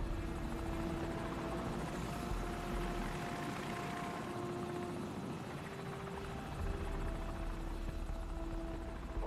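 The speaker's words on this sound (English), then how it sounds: "Enemy helicopter! Get down!" Enemy helicopter in Call of Duty Modern Warfare: a faint, steady rotor drone and low engine hum hanging in the distance, with sustained tonal whine and no voices.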